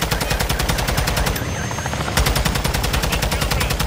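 Rapid automatic gunfire in Call of Duty: Modern Warfare II, with loud, steady, evenly spaced shots that pause briefly partway through and then continue.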